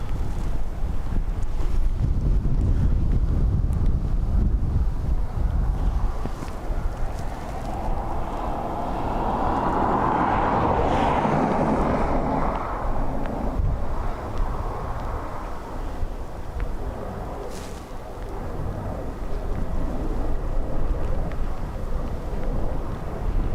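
Strong gusts of wind shake bushes at an airport, a loud, continuous roaring rush with heavy buffeting against the microphone that swells in the middle and persists throughout, with no voices.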